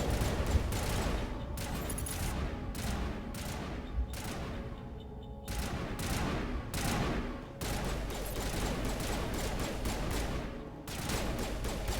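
Sustained gunfire from the Mass Effect video game, a dense run of rapid shots with brief pauses between bursts, loud and continuous throughout with no talking.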